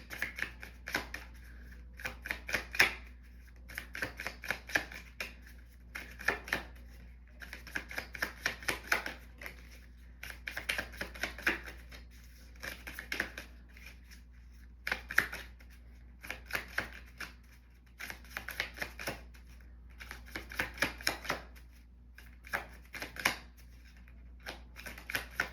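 Deck of cards being shuffled repeatedly, rapid riffling bursts of crisp flicking clicks recurring every few seconds in a steady rhythm, close and fairly quiet with no voices.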